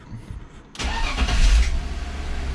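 After a quiet moment, a BMW E46 wagon's engine, newly swapped to a manual gearbox, cranks and roars to life loudly, then drops into a steady idle.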